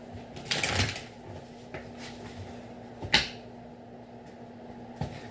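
A deck of tarot cards shuffled by hand, giving a couple of soft, papery riffling bursts, one longer near the start and a shorter one later, over a faint steady room hum.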